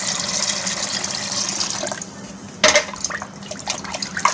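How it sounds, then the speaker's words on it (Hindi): Water splashing and pouring steadily into a pot of kadhi, with a sharper splash midway and small sloshing sounds afterward. "और इसके बाद हम इसमें ऐड करेंगे पानी,"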